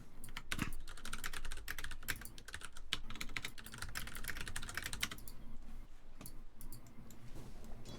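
Rapid computer keyboard typing mixed with mouse clicks during a Dota 2 gaming session, a dense, steady stream of close, crisp clicks and taps with no talking.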